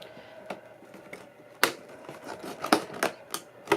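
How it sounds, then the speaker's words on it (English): Scissors snip cardboard tags off a doll's packaging box, with a series of sharp, irregular clicks and cuts close up, several louder snaps standing out against a quiet background. "Just cut down the tags"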